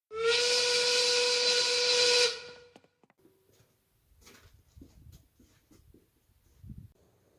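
A loud steam whistle blasts for about two seconds with a rich harmonic tone and hiss, then cuts off, followed by scattered faint clatter.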